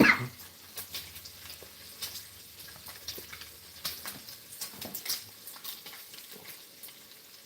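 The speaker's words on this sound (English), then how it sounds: "Just the sizzling and frying of the bacon." Bacon sizzles and fries in a pan, a quiet crackle of scattered pops and hisses at moderate distance, with no talking during the stretch.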